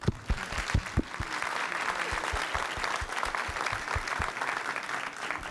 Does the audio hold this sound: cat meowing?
no